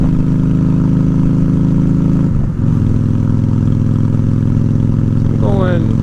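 Honda Shadow ACE 750 motorcycle cruising and gathering speed, its steady mid-pitched engine drone loud and continuous with wind rush, a brief dip near the middle, and a rider's voice briefly audible toward the end.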